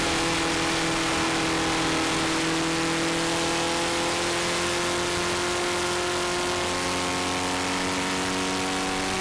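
A vintage race car at Mosport holds a loud, steady engine drone that climbs in pitch through the gears as it heads downhill, with constant wind and road roar beneath it.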